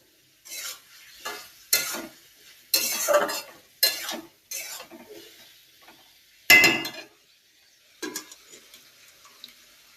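Boiled potatoes are stirred through spice masala in a pan, with intermittent bursts of scraping and sizzling separated by quiet gaps, plus a few utensil clinks.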